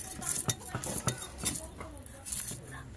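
A knife chops and scrapes fish on a kitchen board in a home kitchen, making a run of irregular close clicks and clinks with a few louder knocks, steady under faint background noise.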